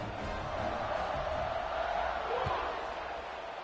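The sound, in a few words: stadium crowd in a PS5 football video game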